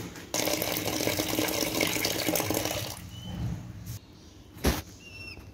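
Water splashing and pouring into a pigeon drinking bowl as it is changed, a steady close watery rush for about three seconds, then quieter handling, a clunk and faint bird chirps.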